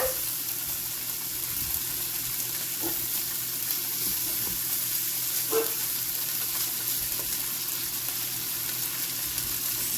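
Smoked sausage frying in a big skillet, a continuous even sizzle with a couple of faint taps as pieces are moved, no voices.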